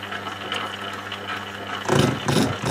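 Shop-built tool and cutter grinder running slowly at about 172 rpm, a steady low mechanical hum with a couple of louder rough grinding bursts near the end.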